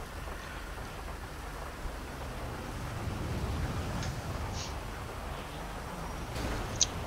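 Steady rain in the video game GTA V, a soft continuous hiss of falling water with faint low rumble, quiet and unbroken apart from a few small clicks near the end.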